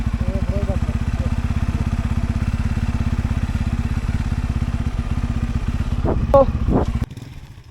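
A motorcycle engine on a snowy, icy road runs loud and close at a steady idle with rhythmic pulsing, cutting off abruptly near the end, while people talk briefly over it.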